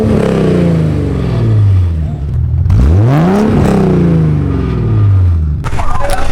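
A BMW E34 535's engine with racing headers revs up and down repeatedly, its pitch sweeping high and falling back, with a raw, throaty roar close to the listener.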